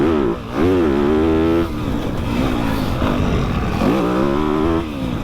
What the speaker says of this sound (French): Donc rouler avec cette moto qui a été mise au point pendant un mois.